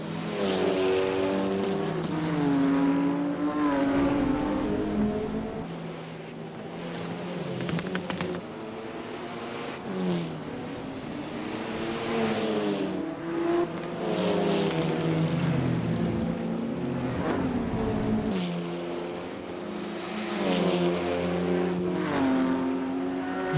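BMW race cars battle during an NLS endurance race, engines droning loudly and continuously with rising and falling pitch as they shift and chase each other, a dense roar throughout.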